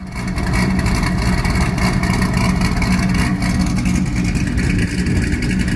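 A C6 Corvette with cam and header upgrades runs loud and close, its exhaust a steady, throaty engine drone with slight swells in revs and no talk.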